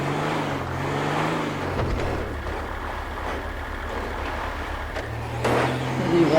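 An old Toyota car engine drones in GTA 5 while driving in hilly terrain, a steady low pulsing rumble that revs up near the end.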